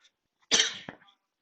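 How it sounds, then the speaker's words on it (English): A single sharp cough rings out close and loud, with a shorter second burst right after, from an adult narrating a morning stock-trading plan; there is no talking during it. "I'm just coughing."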